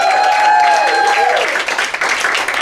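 Applause from a cabaret audience at Don't Tell Mama, a New York piano bar, at a 900th showcase celebration, rising under a held sung note and then continuing as scattered, loosening claps.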